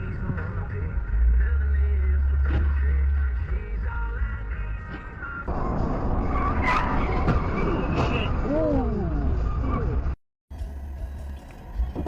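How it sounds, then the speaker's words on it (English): Heavy road traffic with cars moving steadily close by, a continuous loud engine and tire rumble with occasional skidding or squealing tires, while people talk over it; the sound cuts out briefly near the end. "There's so much traffic."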